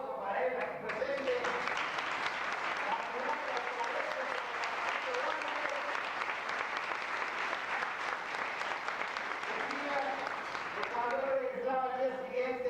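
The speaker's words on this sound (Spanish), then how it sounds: "y un gran aplauso para él aquí presente." Loud, sustained applause from a large crowd at a Peruvian presidential campaign event, dense clapping that holds steady throughout, with voices mixed in.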